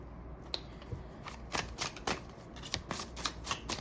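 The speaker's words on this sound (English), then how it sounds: "I love shuffling live" Rapid riffling bursts of cards being shuffled, repeated several times in quick succession, close and crisp with no talking.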